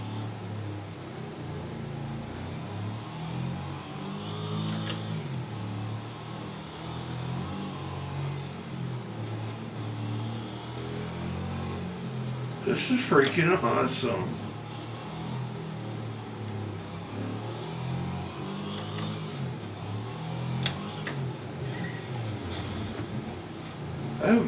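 Racing cars in the video game Wreckfest drone and rev steadily throughout, with a louder burst of engine noise midway, while someone talks over the game sound.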